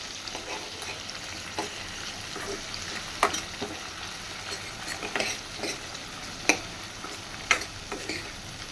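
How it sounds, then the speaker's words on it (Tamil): Tomato and onion sautéing in a pan for gravy, a steady soft sizzle broken by scattered clicks and scrapes of a spoon stirring, close and moderately quiet with no talk. "இந்த தக்காளியும் சேர்த்து இந்த வெங்காயத்தையும் சேர்த்து நல்லா வதக்கி விட்டுக்கலாம்."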